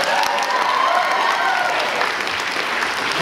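A live audience responds to a stand-up comic with a steady, loud round of applause, continuous clapping with faint voices underneath.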